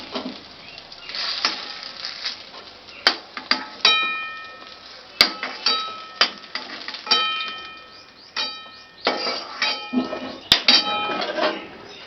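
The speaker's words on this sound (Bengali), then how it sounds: "এবার আমি খুন্তি দিয়ে এরকম নাড়াচাড়া করে নিচ্ছি" A metal spatula stirs a neem and eggplant dish with lentils in a pan, giving irregular scraping strokes and sharp clinks against the pan, close and clear, with some talk in between.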